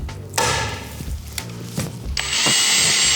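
Power drill used while installing a nitrous system on a car, short bursts of whirring and clunks that end in a louder, sustained high-pitched drilling.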